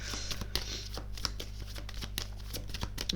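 Tarot cards being handled and shuffled on a table, a run of soft rapid flicks and light slaps in an uneven rhythm, quiet and close, without talking.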